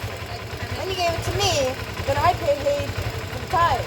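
A 1986 Kawasaki 250R Targa motorcycle engine with rebuilt carburetors idles with a steady low, pulsing throb that runs through the whole clip beneath people talking.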